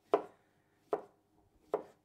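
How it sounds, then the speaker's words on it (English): A knife chops through a cucumber on a cutting board, three sharp, separate cuts spaced evenly about a second apart, close and fairly loud with no talking. "I'm actually not chopping the whole thing"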